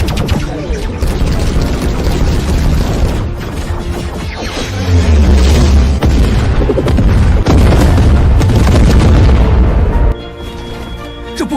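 Sci-fi battle weapons fire in a full barrage, a loud continuous roar of booms, bursts and deep rumbling explosions that swells midway and then drops to a lower rumble near the end.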